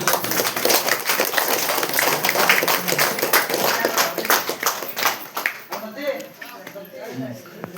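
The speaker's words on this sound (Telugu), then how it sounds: "చప్పట్లు కొడదాం" An audience at a saree distribution event for poor elderly widows claps in a quick, uneven patter that thins out toward the end, mixed with voices talking.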